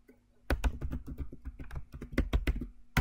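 Password typed on a computer keyboard during Windows 11 setup: a quick run of about a dozen close, crisp key clicks in an uneven rhythm, with no talk.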